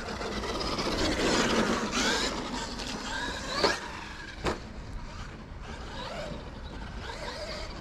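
A Traxxas Maxx 4S RC car racing around puddles: a whining electric motor with crunching, splashing tyre noise and a couple of sharp knocks, moderately close and without talk.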